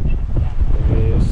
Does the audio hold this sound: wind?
yes